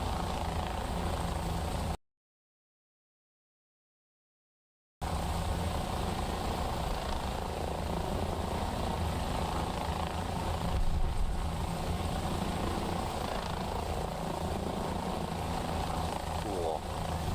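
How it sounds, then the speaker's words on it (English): A British Apache attack helicopter in the War Thunder combat game, its rotor and engine drone steady and loud throughout, with a brief dropout early on; no voices come through over the aircraft noise. "It's a British Apache."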